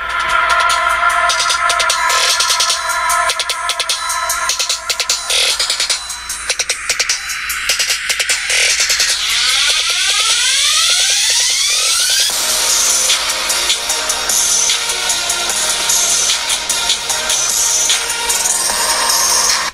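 An Apple iPhone SE (2020) speaker plays at full volume, giving a loud, bright, continuous stream of electronic music with shifting tones and rapid sweeping runs, close to the microphone with no speech.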